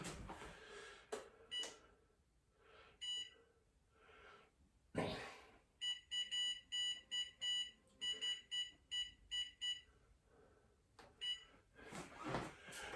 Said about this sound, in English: I'm going to set the timer on 45 minutes